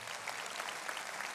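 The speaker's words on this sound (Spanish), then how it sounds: "Démosle un aplauso a los muchachos" Applause from a church congregation thanking a group of young men after an Easter Sunday performance, a steady even wash of clapping throughout with no voices over it.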